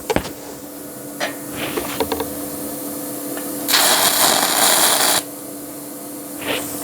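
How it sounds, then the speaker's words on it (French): TIG tack welding with a VEVOR MIG-250 multi-process welder, joining metal without filler rod: a steady hissing arc burst of about one and a half seconds, with a few short clicks and taps before it and a brief hiss near the end. "Je vais te montrer du coup un peu la soudure au TIG avec et sans métal d'apport"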